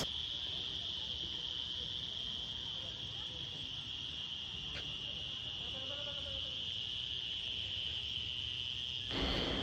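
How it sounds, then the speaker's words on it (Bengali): Crickets chirp in a steady, continuous high drone at dusk at a rural eco resort, a dense insect chorus with faint background ambience and a brief louder rustle near the end. "ঝিঝি পোকার ডাক"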